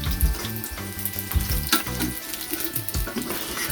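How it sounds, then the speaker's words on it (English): Jamaican saltfish fritters fry in hot oil with a steady crackling sizzle, punctuated by a few low knocks and clatters from the pan, close and moderately loud, with no speech. "Make sure you have enough time to fry them."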